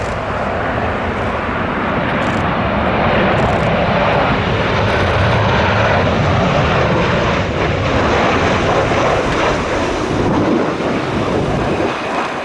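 Airliner, a Boeing 737 or Airbus, landing in a crosswind at Narita airport, a loud, continuous jet engine roar that holds steady throughout, with no one talking over it.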